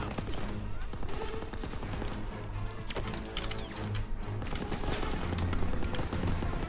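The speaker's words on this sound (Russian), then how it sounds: "Надо подавить пулемет!" Dense, continuous bursts of machine gun fire mixed with scattered impacts and battle noise, loud and close, from the World War II video game Call of Duty: WWII.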